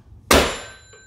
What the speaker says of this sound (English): Did you hear those bells when I slammed down the phone?